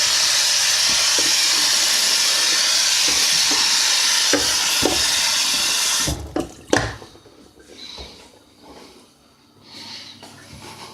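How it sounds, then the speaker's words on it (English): Tap water runs steadily into a kitchen sink while cabbage is washed for toad in the hole, a bright continuous hiss for about six seconds, then the flow stops and a few knocks and rustles follow. "quick wash of the cabbage"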